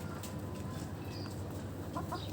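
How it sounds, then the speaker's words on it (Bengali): A chicken among tulsi plants in winter makes soft, close clucks and short calls over a quiet farmyard background. "ওই যে তুলসীর পাতা খাচ্ছে মুরগি"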